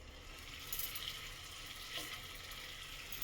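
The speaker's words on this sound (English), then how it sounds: "So I release it slowly in medium flame in the hot oil." Egg devils (breaded Bengali dimer devil) fry in hot oil over a medium flame, giving a steady, even sizzle with a few brief crackling pops, close and continuous with no voices.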